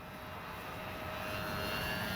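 An E-flite Sportix RC airplane, about 1.1 m in span, flies at half throttle, giving a steady electric motor and propeller drone in the distance that slowly swells louder as it approaches, with no talking.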